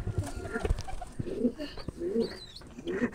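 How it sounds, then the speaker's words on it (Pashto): Pigeons coo in soft, repeated low calls close by, with some handling noise and other faint sounds around them. "دا کوترې دي ماشاءالله ماشاءالله کوترې غواړې"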